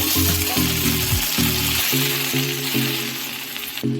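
Gongura leaves frying in oil for chutney, giving a continuous close sizzle with rhythmic tonal scraping of a spoon against the pan, no talking.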